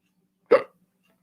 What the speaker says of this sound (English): I wish I could get rid of these hiccups.